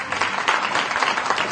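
A television studio audience at an Eid special game show claps in a dense, steady burst of applause, loud and close throughout, with no talk over it.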